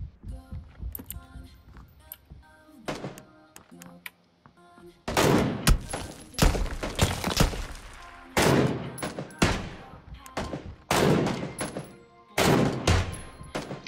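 Rifle gunshots ring out in a shooter video game, starting as sparse quieter cracks and then turning into loud, sharp shots in clustered bursts, some followed by short ringing echoes.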